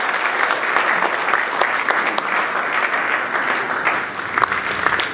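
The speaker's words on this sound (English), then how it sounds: "So maybe a big round of applause to our sponsors also" Continuous, full applause from a panel audience at the "Making Vinyl" opening event in Detroit, dense clapping with a few sharper claps standing out, honoring sponsors, with no speech over it.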